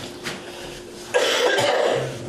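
A burst of coughing during a selectboard meeting, a couple of harsh rough coughs close to the listener, loud against a quiet room.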